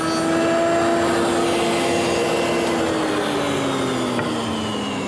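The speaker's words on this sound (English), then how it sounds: "I'm easing the back edge of that crest rail with a 1/2 inch radius." Router with a 1/2 inch radius bit easing the back edge of a wooden crest rail for a corner chair, a loud steady high whine with broadband cutting noise throughout, pitch sagging slightly as it works.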